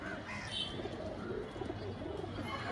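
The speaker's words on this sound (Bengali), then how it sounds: "একদম চিনি পায়রার জোড়া।" A pair of Chini pigeons with red-flecked yellow eyes coo softly and repeatedly at close range, their low murmuring calls continuous amid a busy pigeon shop's background chatter.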